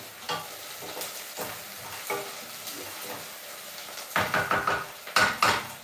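Onions frying in a pan are stirred with a utensil, giving a steady close sizzle broken by repeated scraping strokes. The strokes grow louder and quicker toward the end.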